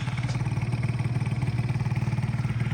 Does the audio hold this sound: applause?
no